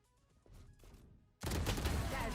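Gunfire from a Phantom rifle in the video game Valorant, a sudden dense burst of loud, close shots filling the second half after a quieter stretch of game sounds.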